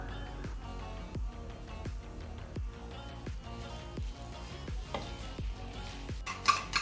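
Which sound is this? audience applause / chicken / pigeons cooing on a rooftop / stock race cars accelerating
chicken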